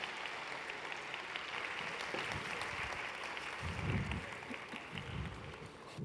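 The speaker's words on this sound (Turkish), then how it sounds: "Alkışlarınızla ikiz şeflerimizi sahneye davet ediyorum" A conference audience at the International Gastromasa Gastronomy Conference applauds to welcome twin chefs Javier and Sergio Torres onto the stage. The clapping is dense and steady and fills the whole stretch, with no voices over it.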